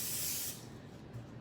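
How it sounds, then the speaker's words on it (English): Cooking spray hisses from an aerosol can into an 8x8 baking pan in one short, close burst that fades away after half a second. "So you're gonna spray your 8x8 pan"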